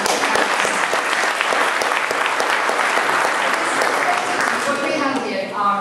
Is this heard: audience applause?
yes